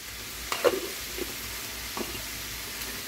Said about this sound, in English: I've had these vegetables sauteing for a few minutes. I'm just going to push them aside on the pan and put the chicken in.